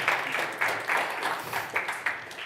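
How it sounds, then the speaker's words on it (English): Audience applause for hackathon teams at a tech education event, a steady, moderately loud round of clapping from a crowd in a hall that swells in repeated waves. "Some teams receive also double applause."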